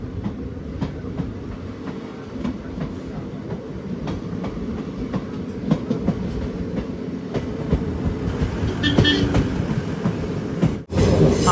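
The Chennai Egmore Express, on the Kollam to Madurai line, rumbles along steadily with rhythmic clickety-clack of wheels over rail joints, heard from inside the coach. The noise builds toward the end, then cuts out briefly.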